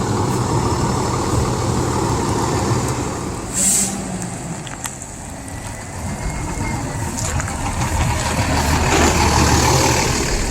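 An RV backing out of a wooded campsite, a loud, steady engine drone with a brief air hiss and faint clicks over the low rumble, no speech.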